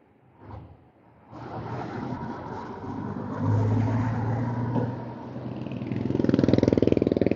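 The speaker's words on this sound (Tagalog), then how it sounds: "Yan na yung truck ko." A truck engine rumbles closer and passes by, growing from a quiet start to a steady drone and then a louder, rhythmic throbbing toward the end.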